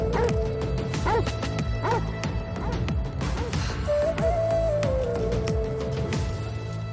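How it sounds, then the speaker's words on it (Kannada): A dog barks repeatedly in front of a door on the fourth floor of a building. The sharp, mid-distance barks come in an irregular series with brief yips mixed in, over a constant background, and then a rising and falling tone sounds. "4ನೇ ಫ್ಲೋರ್ ಅಲ್ಲಿ ಒಂದು ಡೋರ್ ಮುಂದೆ ನಾಯಿ ಬಗ್ಳುತ್ತಿದೆ"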